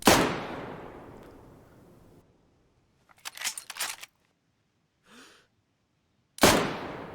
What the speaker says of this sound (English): we'll send a couple of shots for each weapon, with the Mosin being first